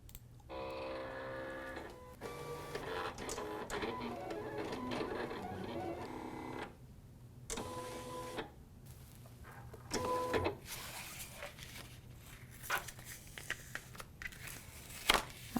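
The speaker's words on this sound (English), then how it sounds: "now when I press send, it's just going to cut the gold with the weed lines and registration marks" A Silhouette cutting machine cuts gold vinyl, its motor whirring and buzzing in stop-start runs of carriage movement with short pauses and clicks, close and moderately loud.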